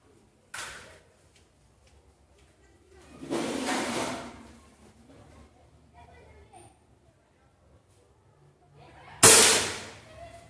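A third-generation Rossi Dione air rifle fires at a tire: a single sharp, loud crack near the end, preceded by a couple of softer muffled rustling bursts.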